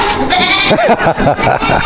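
Goats bleat in a pen on a farm, several wavering, nasal calls following one another over a constant background din, close and loud.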